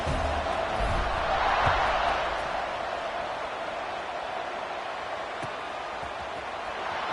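Stadium crowd at a college football game between Miami and Missouri roars steadily at kickoff, a broad sustained cheer that swells early then settles into a constant loud wash.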